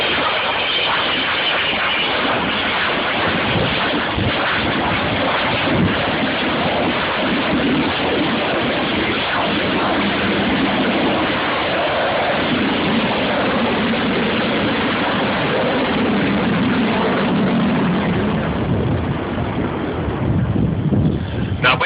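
An Avro Vulcan bomber's jet engines roar during a flying display, a loud, continuous broadband rush with wind buffeting on the microphone, swelling slightly toward the end.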